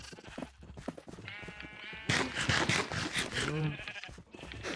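Lime sheep in Minecraft bleat several times in a row, the wavering game bleats close and clear, growing louder and overlapping in the second half, with no talking.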